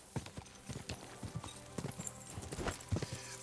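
Hooves of a horse in Kingdom Come Deliverance 2 clip-clop in an uneven, fairly quick rhythm, moderately close against a quiet background, with no talking.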